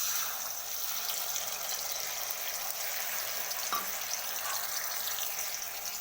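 Mustard seeds and cumin sizzle in hot oil, a soft, steady crackling hiss that stays faint and even throughout, with one brief clink near the end and no talk.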